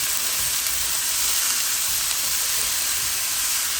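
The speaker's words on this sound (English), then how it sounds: "We'll give this all a really quick mix." Lamb fried rice with mixed vegetables gets a quick stir in a hot pan, a bright, steady hiss and sizzle with low scraping underneath, continuous and fairly close.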